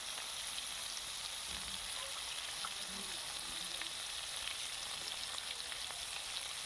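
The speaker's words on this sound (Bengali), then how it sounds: "এখন করব মাছ ভাজা। মাছটা ফার্স্ট ভেজে নিব" Fish fries in a pan with a quiet, even sizzle and faint scattered crackles.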